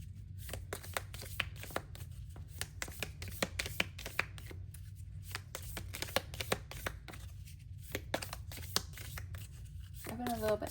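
Rapid, steady riffling of a deck of angel cards being shuffled by hand, close and crisp, with a brief pause partway through.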